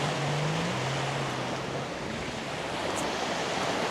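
Ocean surf rolls in on Lamai Beach, Koh Samui, a steady broadband wash of waves close by with a faint low tone early on and no voices.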